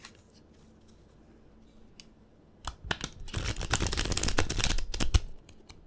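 A White Fly Tarot deck riffled and reverse-shuffled close by, a quiet start giving way to a few seconds of dense, crisp flapping and slapping.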